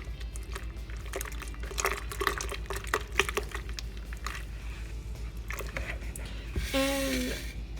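Tamarind pulp is stirred and broken apart in water to make agua de tamarindo. Wet squishing and sloshing come close by, with an irregular rhythm, and a brief pouring or trickling sound follows near the end.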